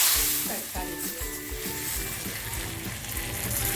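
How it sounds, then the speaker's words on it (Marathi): Red spice tempering hits hot oil with curry leaves and is stirred into cooked mixed dal in dhaba-style dal tadka, giving a loud, steady sizzle with crackling stir bursts, close and continuous. "थोडासा लाल मसाला टाकते आणि आहे ना जी आपली डाळ तयार झाली आहे ना त्याच्यामध्ये"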